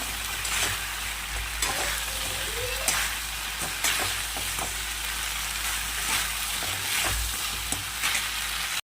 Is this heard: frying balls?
yes